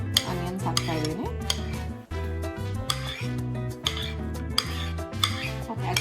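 Chopped onions tumble into a guacamole bowl with clinks of a utensil against the dish and soft stirring, set under steady background music.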